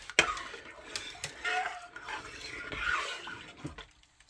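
Stirring broccoli cheese soup in a crock-pot, quiet scraping and soft clinks of a spoon against the pot in an uneven rhythm, with a few sharper knocks.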